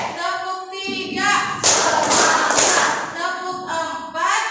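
Classroom of students clapping a rhythmic 'ready to learn' clap pattern, a burst of dense, loud group claps sustained for about a second and a half, with a teacher's voice speaking before and after.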